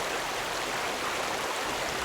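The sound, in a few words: flowing stream in a cartoon story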